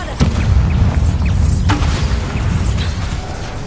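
In the video game Hogwarts Legacy, a Bombarda blasting spell explodes with a deep rumbling boom, followed by a sustained low roar and scattered crackling debris.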